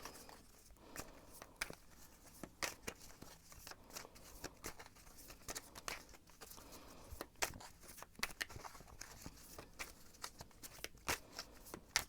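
Tarot cards shuffled repeatedly in quick riffling bursts, a crisp papery flutter with soft taps between, close and fairly quiet with no talking.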